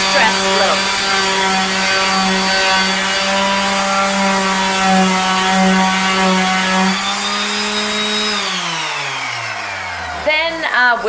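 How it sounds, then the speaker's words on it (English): A power sander roughens a wooden theatre stage floor, a steady high-pitched whine that holds for several seconds, then winds down in pitch as the motor slows and stops. "with the sander to give a little bit of a unified grainy texture"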